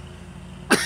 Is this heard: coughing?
yes